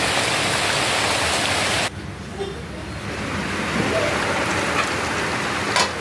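Rain falls steadily outside in a dense, continuous hiss, briefly softening after a couple of seconds before swelling again.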